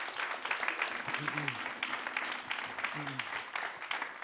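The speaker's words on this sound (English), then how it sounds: "Let's give her a round of applause" Audience applause for a dancer after a talk on Katherine Dunham, steady clapping from a crowd with a few brief voices speaking over it in the middle.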